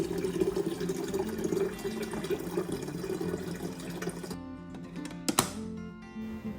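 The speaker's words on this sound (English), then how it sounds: "fill my tea kettle with water" Tap water runs into a tea kettle with a steady splashing rush that rises in pitch as it fills, then cuts off, followed by a couple of sharp clinks and quiet.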